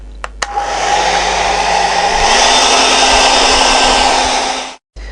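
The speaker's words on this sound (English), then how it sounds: "I'm just going to give this a blast with the hairdryer now" A hair dryer blows with a loud, steady whir, shifting pitch slightly midway before cutting off abruptly near the end.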